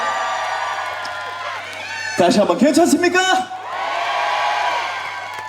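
At a concert at the Okcheon grape and peach festival, someone speaks over the PA, then the crowd answers with a loud, short burst of whoops and cheers before the amplified talking resumes.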